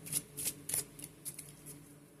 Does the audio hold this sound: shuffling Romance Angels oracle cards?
yes